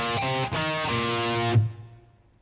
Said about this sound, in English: So the fourth measure would sound like this.